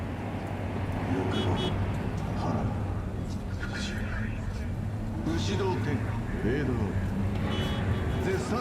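A car drives in Cyberpunk 2077, a steady engine and road rumble running throughout at even loudness, with faint game sounds on top.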